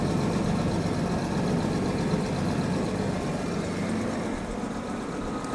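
A Jaguar XJ6 Series 3 with a rough-idle fault, engine warm and idling steadily, gives a continuous, even low rumble close by with no talking.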